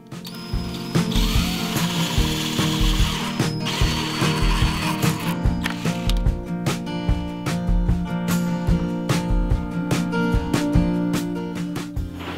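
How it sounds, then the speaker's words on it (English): A power drill bores a 5/8 inch hole in a bucket, a loud, continuous whirring grind with rattling, clicking texture throughout and no voices. "I'm gonna drill a 5/8 of an inch hole"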